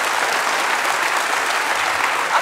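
An audience claps steadily and densely for a keynote speaker at a Python conference, a sustained, fairly loud wash of applause from a large room with no speech.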